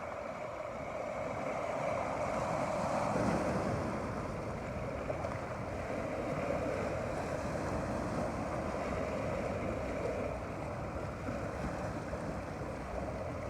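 Waves and water currents roll in against a constant outdoor wind rush, a steady, moderately loud surf texture with no voices.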